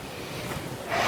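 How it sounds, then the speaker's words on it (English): Wind gusting outdoors in the aftermath of Hurricane Irma, a steady close rushing hiss across the microphone that swells louder and brighter toward the end, with no voices. "It's windy."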